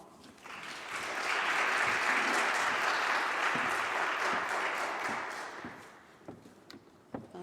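A lecture audience at Yale claps warmly for several seconds, swelling quickly into steady, full applause that holds, then tapers off into a few scattered claps.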